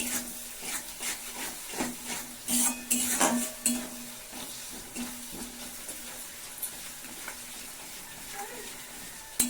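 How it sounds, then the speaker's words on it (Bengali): Spice masala with red chili powder for Bengali rui fish kalia stirred and fried in a pan: soft sizzling under repeated scraping strokes of a spoon against the pan, close and fairly quiet. "1 চামচ রেড চিলি পাউডার দিয়ে দেব, মশলাটা খুব ভালোভাবে কষিয়ে নেব"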